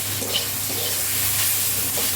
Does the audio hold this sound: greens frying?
yes